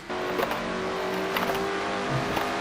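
A race car engine in a racing video game powers along a straightaway at The Glen during a Castrol GTX Cup series race, a steady, moderately loud drone that rises slightly as it accelerates.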